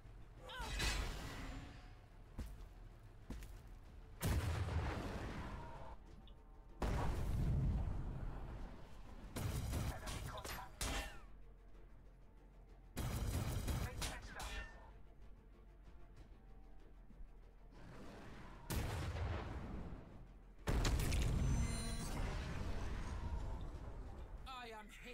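Bursts of gunfire and explosions from a Warhammer 40000 Battlesector multiplayer battle come in loud broadband waves separated by quieter gaps, with players talking over them.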